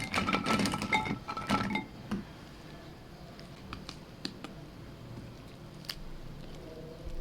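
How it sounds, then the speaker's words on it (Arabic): Crispy fried balah el sham pastries crackle and crunch up close, with a dense burst of crisp breaking sounds at first, then sparse lighter crackles and clicks against a quiet background. "اسمعي كده صوت القرمشة."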